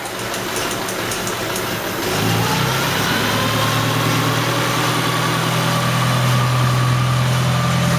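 Vintage Fiat 501 engine idling close by, a steady low rumble that settles into a slightly higher, even throb after a few seconds.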